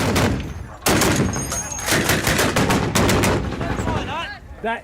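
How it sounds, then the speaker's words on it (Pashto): Gunfire in Afghanistan crackles in rapid bursts, loud and close, with sharp repeated shots overlapping into a dense fusillade, while voices can be heard shouting underneath. "له هغه ځایه هم ډزې کېږي"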